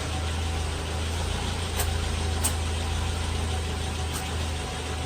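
A car engine idles steadily with a low continuous hum and faint rhythmic pulsing, close and constant throughout, with a couple of brief higher clicks partway through.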